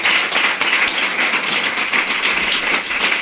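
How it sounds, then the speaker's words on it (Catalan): A studio audience applauds a guest on a talk show, a loud, close, even roar of many hands clapping without pause for the whole stretch. "Aplaudiment per la Tània"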